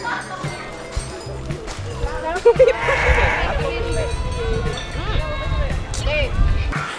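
Sheep bleat repeatedly at a farm attraction in the Cameron Highlands, Malaysia, while being hand-fed, loud and close, mixed with people chatting and a voice nearby.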